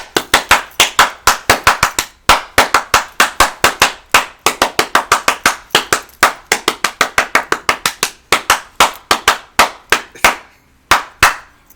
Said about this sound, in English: Here come a clap, and we do it like this.